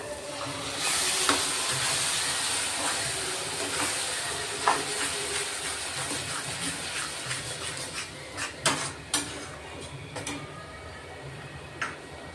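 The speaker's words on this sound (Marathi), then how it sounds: "आपण आता टोमॅटोची प्युरी केलेली आहे ना, 2 टोमॅटोची, ती टाकून घेणार आहे." Tomato puree from two tomatoes sizzling in hot oil and masala in a pan, a steady loud hiss with occasional pops and clinks, with little talk.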